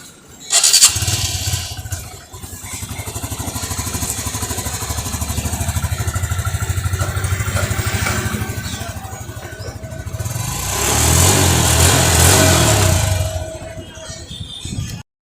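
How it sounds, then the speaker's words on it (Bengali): A self-start motorcycle engine cranks and fires, then idles steadily with a low throbbing hum before revving up louder near the end, close to the listener. "বাইকটা কিন্তু সেলফ স্টার্ট টোকায়। তো স্টার্ট যদি দেখানোর চেষ্টা করি আপনাদেরকে"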